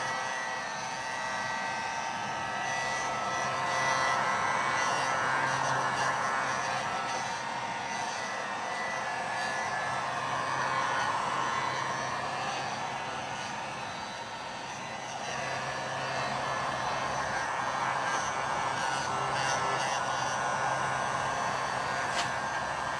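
A continuous whooshing hum of a hair dryer blows steadily on a car leather seat for a long stretch, its airy roar rising and falling slightly in loudness.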